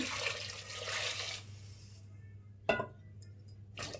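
Water poured from a vessel onto cut raw jackfruit pieces for kebab, a soft splashing stream for a couple of seconds, followed by a couple of faint clinks.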